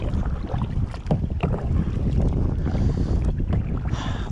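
Wind buffeting a microphone while kayaking on a South Florida canal, gusty rumbling and rustling with small knocks and splashes, steady and close, without talk.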